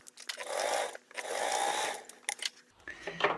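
A domestic sewing machine stitches a tote bag in two bursts of steady, fairly loud whirring, each about a second long, with short pauses and small handling knocks between them.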